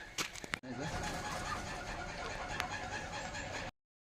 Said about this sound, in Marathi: संध्याकाळ झाली की ह्या कोंबड्या आपल्या जागेवर येऊन बसतात